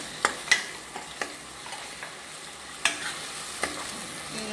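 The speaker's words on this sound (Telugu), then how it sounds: "ఇప్పుడు అల్లం వెల్లుల్లి పేస్ట్ వేసుకుందాం." Ginger garlic paste frying in a pan for a spicy goat head curry, a continuous soft sizzle broken by sharp clacks of a spoon stirring and scraping at irregular intervals, close by.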